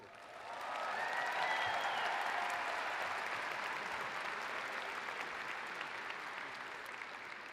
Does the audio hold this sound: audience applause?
yes